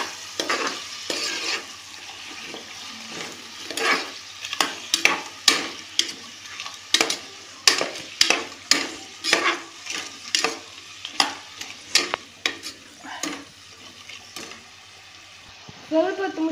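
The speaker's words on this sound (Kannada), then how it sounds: "ಈರುಳ್ಳಿ ಫ್ರೈ ಆಗಿದೆ ಇನ್ನು ಪೊಟಾಟೋನ್ನು ಹಾಕುವ ಇದು ಸ್ವಲ್ಪ ಬೇಯಲಿ" Onions and potatoes fry in a pan with a low sizzle, broken by a regular series of loud scraping stirs and spatula knocks roughly every half second to second, near and clear.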